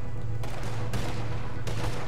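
Video game gunfire in Red Dead Redemption 2, a rapid fusillade of loud shots with a few sharper cracks standing out over a continuous rumbling bed.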